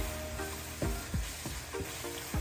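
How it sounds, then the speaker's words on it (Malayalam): Green chillies sauté in a pan for a Kerala-style tomato curry, with a soft sizzle and a few quick stirring scrapes, close by and without talk. "അതുകൂടെ ചേർത്ത് നല്ലപോലെ നമുക്ക് ഇളക്കി അത് മുളകൊക്കെ ഒന്ന് വഴന്ന് വരും"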